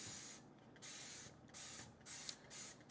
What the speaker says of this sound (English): So it sprays on quite nicely.